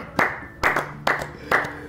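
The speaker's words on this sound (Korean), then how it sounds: "박수 한번 쳐야 되네." Four slow, evenly spaced claps from a small group celebrating a couple, each a sharp close burst that quickly dies away, with brief gaps of quiet between them.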